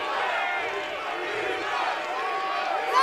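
Stadium crowd at a Lingerie Football League game between Seattle Mist and the Temptations at the LA Coliseum, a steady, distant roar of voices rising slightly at the end, with a commentator talking over it.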